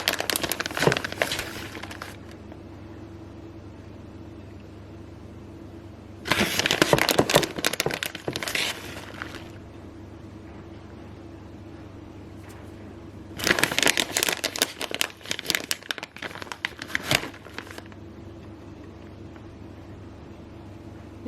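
A plastic bag of shredded cheese crinkles in three loud bursts, each lasting a couple of seconds, as cheese is spread over pepperoni pizza baked chicken, with quiet pauses between.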